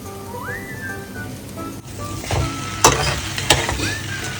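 Noodles tossed into a hot pan of masala and stirred, with a soft, steady sizzle and scraping, clinks of the utensil against the pan, and short whistling tones rising over the cooking noise.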